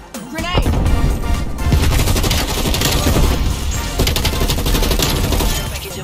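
Dense bursts of gunfire and grenade blasts in a Call of Duty multiplayer match rattle on continuously for several seconds, loud and close, with rapid shots layered over deep explosive booms.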